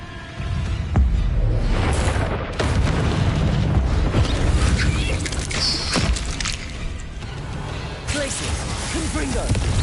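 A Confringo fire spell in Hogwarts Legacy blasts with a booming burst amid constant combat clatter and crashes, loud and sustained throughout.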